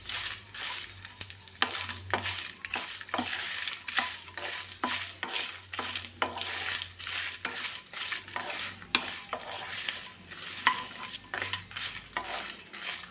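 Dried red chillies frying in coconut oil in a pan for chutney, with a steady soft sizzle broken by repeated scraping and stirring clinks of a spoon against the pan, close and fairly quiet.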